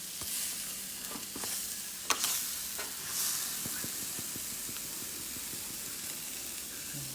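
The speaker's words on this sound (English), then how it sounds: "stir that up nice and good to make sure the onions and the peppers and the sausage are coated" Sausage, onions and peppers sizzle in a hot skillet as they are stirred, a steady frying hiss broken by scraping and clinking of the spoon against the pan.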